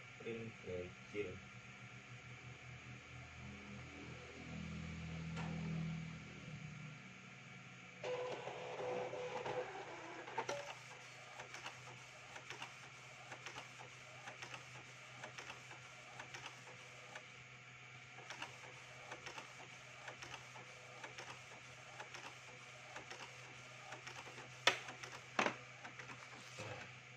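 An Epson L1300 printer printing, its carriage running with rapid rhythmic clicking and a steady mechanical hum, close and fairly faint, with sharper clacks near the end.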